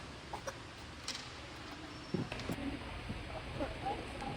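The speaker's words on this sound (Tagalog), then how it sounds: "Wala, manok si Neri." A few soft, scattered clucks from a chicken at a distance, faint against a quiet outdoor background with occasional small knocks.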